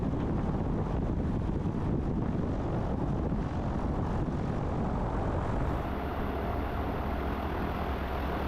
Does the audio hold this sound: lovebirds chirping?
no